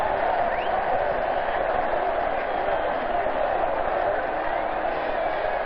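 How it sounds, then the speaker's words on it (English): A football crowd at Harvard Stadium during a 1968 Harvard–Yale game gives a steady, distant roar of cheering throughout. "And the crowd at Harvard Stadium loves it."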